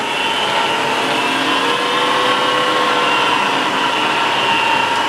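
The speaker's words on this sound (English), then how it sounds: "I'm going to run the spindle for you. And in the high range, variable speed." A Bridgeport 2J vertical milling machine with variable speed has its spindle running in the high range, giving a loud, steady, high-pitched whine and hum that holds constant throughout.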